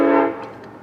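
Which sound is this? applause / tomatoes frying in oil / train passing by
train passing by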